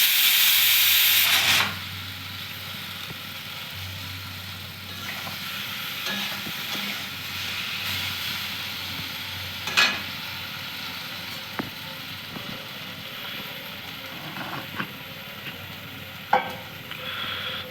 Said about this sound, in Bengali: সর্ষে, জিরে বাটা, সর্ষে বাটা, হলুদ, কাঁচা লঙ্কা বাটা, এইসব দিয়ে মাছের ঝালটা করছি